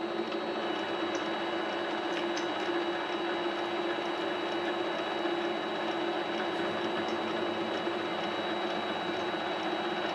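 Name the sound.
PM-25MV mill chamfering a steel roller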